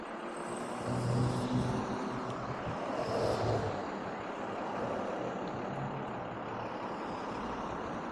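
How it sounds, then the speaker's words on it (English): Steady road traffic with cars and trucks passing nearby, a continuous broad rumble and hiss that swells and fades as vehicles go by, with no talking over it. "so many cars today"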